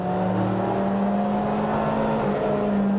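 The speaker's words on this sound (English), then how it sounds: "You can feel every little machination of that twin cam engine up ahead of you." A 1968 Ford Escort touring car with a twin cam engine, being driven, gives a loud, continuous engine drone from inside the cabin. The tone wavers slightly as the revs shift.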